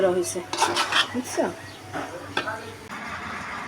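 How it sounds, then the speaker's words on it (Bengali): Beef curry is stirred in a metal pot, a spoon scraping and clanking against the pot in uneven strokes, close and fairly loud, with a voice talking faintly at times. "এখন নেড়ে দিচ্ছি"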